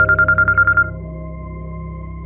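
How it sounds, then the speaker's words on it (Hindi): A phone ringtone chirps in a quick run of about eight rapid pulses, then gives way to a sustained electronic tone, with a short blip returning at the very end in a quiet night-time room. "इतनी रात को किसका फोन है?"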